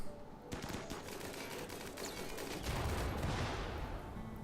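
Rapid, dense bursts of gunfire from colonists in a Rimworld firefight crackle continuously, overlapping shots building into a sustained volley.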